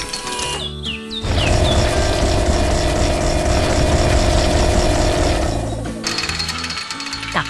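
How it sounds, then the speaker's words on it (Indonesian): A loud, rapid pounding drill hammers into the ground for several seconds, close by, with quieter mechanical sounds before and after. "Bor itu sedang bekerja keras menggali tanah, mengguncang bumi dengan suara bisingnya."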